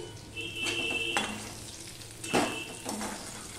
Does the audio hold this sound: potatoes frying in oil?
yes